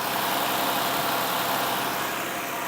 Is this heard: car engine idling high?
yes